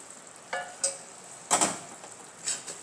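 Sugar syrup being mixed into roasted gram flour for mohanthal, with a few separate scraping stirs and soft sizzles of the wet mixture in a pan, quiet and close, with pauses between strokes.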